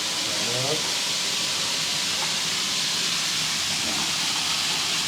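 Cold running water rinsing blanched bean sprouts in a kitchen, a loud, continuous hissing rush of water that fills the whole clip.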